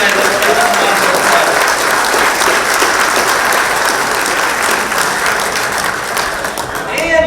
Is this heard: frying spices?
no